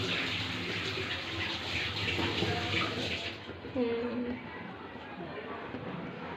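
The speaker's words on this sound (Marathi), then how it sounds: "हे बघा येत आहे पाणी वरती उकळून" Steady rushing, bubbling water of a pot at a rolling boil for ragi papad, close and fairly loud, with a faint voice murmuring in the background.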